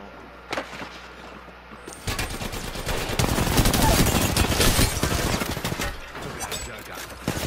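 Rapid bursts of automatic gunfire from an Apex Legends match, loud and dense, with sharp repeated shots that fill most of the clip after a quieter start.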